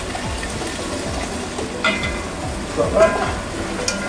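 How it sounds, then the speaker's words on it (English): Tomato sauce being stirred and frying in a pan while spaghetti with mussels in red sauce is cooked, giving a steady close sizzle with soft scraping strokes and a brief voice. "Keep stirring that."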